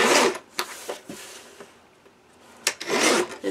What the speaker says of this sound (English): So I'm going to cut it to 5x5.